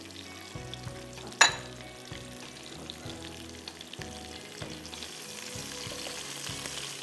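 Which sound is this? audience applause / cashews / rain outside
cashews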